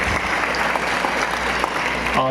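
Steady, dense applause from a crowd at a religious gathering addressed by the jagadguru of the Chalavadi Gurupeetha, sustained and loud throughout with no break.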